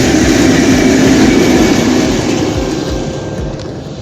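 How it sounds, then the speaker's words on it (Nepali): A freight train loaded with iron rolls past on tracks in Serbia, a loud, close, continuous rumble with rhythmic wheel clatter that eases slightly toward the end, with no voices. "ट्रेन हेर्नु होला, यो चाहिँ अब एकदम पुरै फलामहरू बोकेको छ है"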